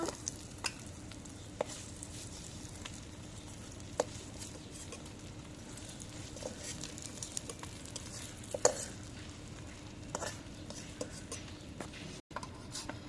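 Chepa shutki (fermented dried fish) puli dumplings frying in a pan, with a steady close sizzle throughout and occasional scrapes and stirs of a utensil against the pan; no talking.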